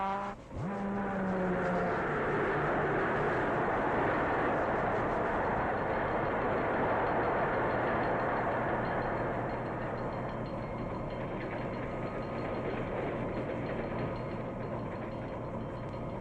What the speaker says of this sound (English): Now Mr. Schroeder closes the throttle to slow down the train, for a sharp curve is just ahead.